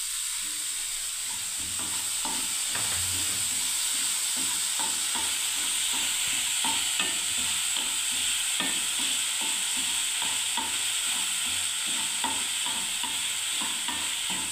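Soaked flattened rice (poha) sizzles in a hot pan as a spatula stirs and scrapes it repeatedly, a steady close hiss with rhythmic scraping throughout, no talking.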